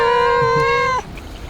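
A roaming cat near a vegetable greenhouse gives one clear, drawn-out meow lasting about a second, close by.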